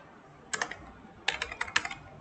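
Computer keyboard keys typed while working in Excel, two short bursts of quick, close, crisp clicks separated by a brief pause, with no talking.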